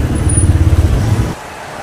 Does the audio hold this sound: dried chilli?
no